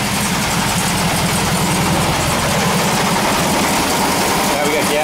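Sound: 1967 VW bus engine running after cold start, skipping

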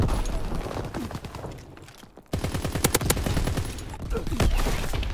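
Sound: gunfire in a video game

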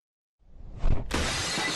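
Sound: window glass being smashed in video game Go To Bed

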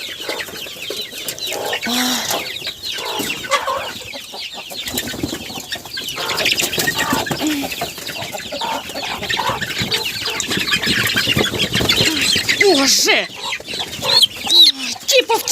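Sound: chickens clucking loudly in a village yard

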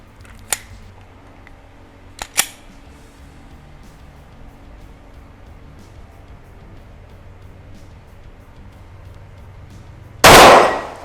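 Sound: gunshot from Blue Armory Bull Axe gun, long-range test

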